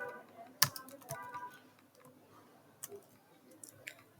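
Soft, close keystrokes on a computer keyboard, one sharp early tap like the enter key followed by scattered lighter clicks at an irregular pace in a quiet room.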